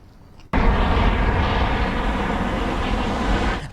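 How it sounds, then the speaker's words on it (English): Police helicopter searching for an armed man near an elementary school drones overhead with a steady, broad, loud rumble that begins abruptly and holds through to the end. "A police chopper overhead as authorities search for an armed man near John Kelly Elementary School."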